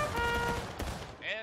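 Musket volley from a line of soldiers in the American Civil War video game War of Rights, a ragged burst of overlapping shots cracking close by over shouted commands, with further firing trailing off behind.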